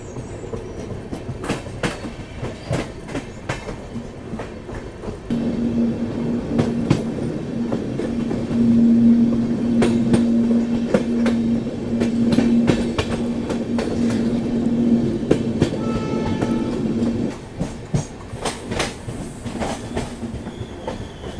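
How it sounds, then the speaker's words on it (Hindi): The Sanghamitra Express rolls through a wide curve near Sevagram junction, a loud steady rumble with rhythmic clickety-clack and a sustained wheel squeal in the middle stretch, heard from on board without talk. "ये देखो अब किस तरह से हमारी ट्रेन जो है वो कर्व ले रही है"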